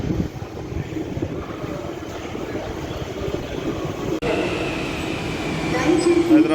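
Waiting on the platform of Hyderabad Metro's Ameerpet junction station, a broad steady rumble of rail and crowd noise fills the space, swelling slightly toward the end, with people talking underneath.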